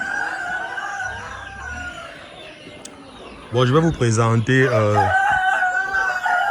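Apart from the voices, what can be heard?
Brahma roosters crowing on a farm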